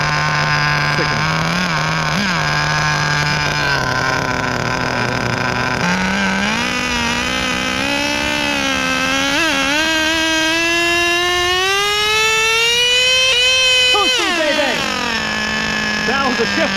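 Kyosho V-One RR vintage nitro RC touring car with an OS engine, running loud and close: a buzzing idle rises into a long climbing rev with a shift point, then drops sharply back to idle.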